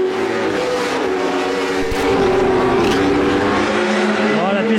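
Race cars roar around a drying track during a race, a continuous loud engine drone with passing revs, under a commentator's voice.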